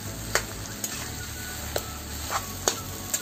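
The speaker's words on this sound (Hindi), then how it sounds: "मैं इसको बहुत अच्छे से फ्राई करूँगी, सारे मसाले को अच्छे से मिला के खूब अच्छे से फ्राई करूँगी।" Potatoes fry in a pan with turmeric and salt, a continuous close sizzle punctuated by several light clicks of a spoon stirring against the pan, with no voices.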